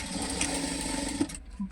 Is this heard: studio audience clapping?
no